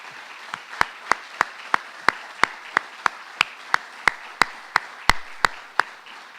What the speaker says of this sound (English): Let us recognize our first responders for their bravery by giving all of our first responders